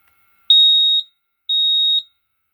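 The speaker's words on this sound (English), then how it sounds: "the beep for 2 times when you turn it off and 1 time when you turn it on" A repaired power board beeps as it is switched off or on, two clean, high-pitched electronic tones of about half a second each, evenly spaced and alone in silence.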